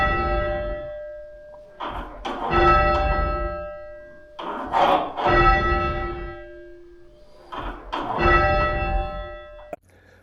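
A large church bell at St Cuthbert's Church, Lytham, rings in slow, evenly spaced strokes, each clang ringing out and fading before the next, loud and close.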